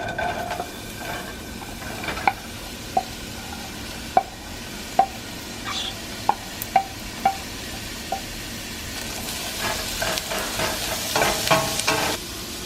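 Chopped onion and minced garlic sizzling in a soup pot, a steady frying hiss with a dozen sharp clinks of a utensil against the pot spaced every second or so, and the stirring grows busier near the end.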